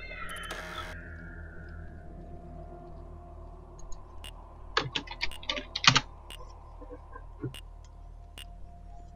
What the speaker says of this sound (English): Stop clicking buttons.